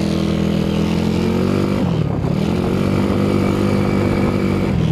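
A 188cc motorcycle on a test ride, its engine droning loudly and steadily up close, with a brief dip in pitch midway before it holds again at a constant roar.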